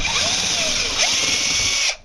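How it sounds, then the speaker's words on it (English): A power drill bores a larger hole through a wooden door for a door viewer, a loud, steady high whine held for about two seconds before cutting off abruptly. "Now I'm going to line it right up with that pilot hole, and now I'm going to make the larger hole."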